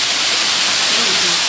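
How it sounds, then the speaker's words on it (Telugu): Water pours down the Pinnapuram waterfall in Nandyal, Andhra Pradesh, a loud, close, unbroken rushing hiss that fills the whole moment. "అసలు ఏంది ఇది వాటర్ ఫాల్ అవుతుంది?"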